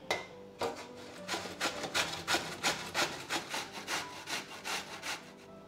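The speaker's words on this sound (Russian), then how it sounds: "Кабачок потру на крупной терке." A single zucchini is pushed back and forth over a coarse grater, giving about a dozen steady rasping strokes in an even rhythm, close and clear with no voices.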